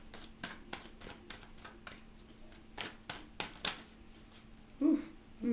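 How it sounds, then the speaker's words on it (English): Quick bursts of tarot cards being shuffled, several riffles in a row, close and quiet, with a soft tap near the end. "3 more shuffles"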